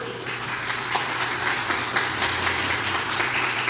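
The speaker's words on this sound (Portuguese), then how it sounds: "Uma bela salva de palmas ao Senhor por essa palavra." A church congregation claps in praise after a sermon, dense continuous applause filling the room at an even level without a break.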